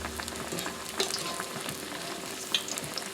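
Apple fritters frying in hot oil, a steady close sizzle and bubbling with occasional louder pops and faint stirring sounds, no voices over it.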